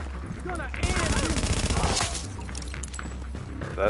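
Rapid gunfire in a video game, a burst of shots aimed at a sniper, crackling loudly in a tight cluster before trailing off into quieter game noise.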